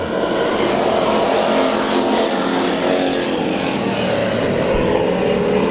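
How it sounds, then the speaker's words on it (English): Race cars at Bakersfield Speedway roar together in a loud, continuous engine drone as a heat race gets underway, a dense sustained wall of motor noise with no voices. "Back to the green flag. We are racing."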